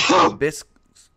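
A person sneezes once, loud and close, in a sharp burst followed by a couple of softer short sounds and a faint tail.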